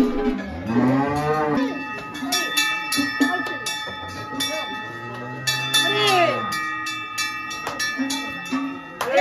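Cattle low repeatedly, several long moos rising and falling, as herds set out on the Aubrac transhumance, cows decked in ornaments; bells ring steadily throughout, close and loud.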